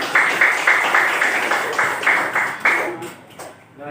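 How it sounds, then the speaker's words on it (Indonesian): An audience claps hands on cue in rhythmic unison, about a dozen even beats in steady pulses before trailing off near the end. "tepuk tangan dulu, tepuk tangan dulu"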